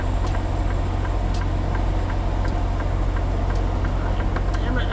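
Semi truck tractor engine idling while backing into a dock at a Supervalu warehouse in Harrisburg, PA, with a steady low diesel drone and faint periodic clicks throughout.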